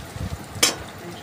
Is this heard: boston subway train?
no